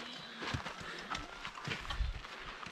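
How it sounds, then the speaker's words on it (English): Horses walk along a volcano hiking trail on El Fuego in Guatemala, with uneven hoof clops close by and a faint voice in the background. "Dad, show them the horses."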